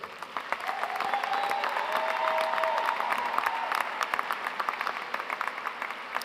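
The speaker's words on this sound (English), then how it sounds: "So how about a round of applause for our graduates today?" A crowd claps for graduates at an online graduation ceremony, the applause swelling to a sustained roar, then thinning into scattered individual claps; a faint tonal sound rides beneath the middle stretch.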